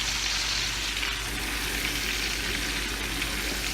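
Food fries and sizzles steadily in a pan, a dense continuous hiss that stays close and even throughout, with no speech.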